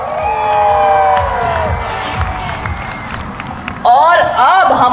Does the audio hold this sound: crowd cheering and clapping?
yes